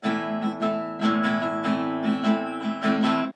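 Close acoustic guitar strumming a chord in a repeating pattern with an added up-stroke at the end of each bar, from a song, bright even strokes and no voices.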